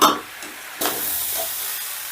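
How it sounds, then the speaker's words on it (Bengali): Rice frying with spices in a pan for soya paneer pulao: a sharp scrape of stirring, then a steady sizzling hiss that carries on close and fairly loud. "চালটাও আমি মশলার সাথে 3 থেকে 4 মিনিটের মতন কষে নেব।"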